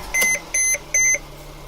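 A high-mileage Sprinter van's door-open warning chimes three times in an even rhythm, clear and close, over a faint idling hum.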